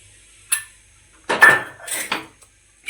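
Black chickpeas poured into a kadai for roasting, with a short metallic clink followed by a rattling rush of hard chickpeas hitting the metal pan, then a second smaller pour, close and loud against silence.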